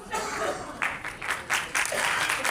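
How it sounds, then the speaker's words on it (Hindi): Audience applause at a state-level Sanskrit song competition for children comes in scattered, uneven bursts of clapping, with a voice speaking over it. "देखिए आधे लोग सोच रहे हैं ताली बजाए, आधे लोग सोच रहे नहीं बजाए, तो एक बार मिलकर सभी बजा देंगे।"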